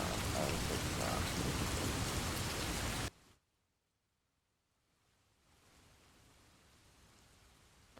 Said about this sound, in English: the rain is too loud